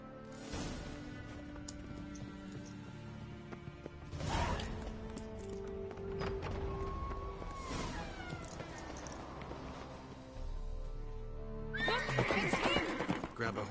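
Horses in The Witcher 3 whinny and neigh at intervals, with hooves clip-clopping and game ambience around them, ending in a louder burst of neighing and movement.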